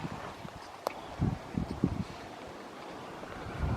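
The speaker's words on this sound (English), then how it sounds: "Sorry about this wind." Gusty wind buffets the microphone outdoors on a hilltop ranch near a fence line, rumbling bursts of low noise rising and easing, close and fairly loud, with no clear speech.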